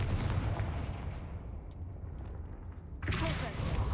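A Confringo fire spell cast in Hogwarts Legacy bursts out in a sharp, loud blast around the three-second mark, over a steady rumbling game soundscape with a voice heard earlier.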